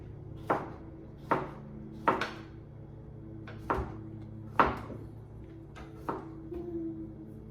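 Knife chopping cucumbers on a board for bread and butter pickles: seven sharp, separate thunks at an uneven pace, close and clear over a faint background hum.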